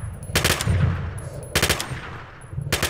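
Rapid automatic gunfire from Shadow of Chernobyl: Autumn Aurora 2.1, three loud, close bursts of rattling shots separated by short pauses, with a low rumble and faint game ambience between them.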